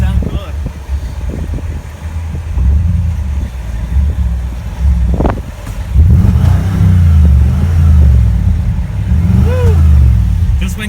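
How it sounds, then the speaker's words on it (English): Sports car engine revs with the hood open, a deep low rumble that swells and holds after a sharp transient midway, close to the microphone with wind buffeting and people talking intermittently. "it's revving"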